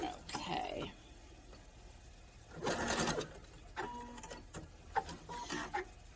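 A sewing machine stitching a fabric headband, running in short bursts of rapid mechanical chatter separated by pauses, close and moderately loud with quiet handling noises between.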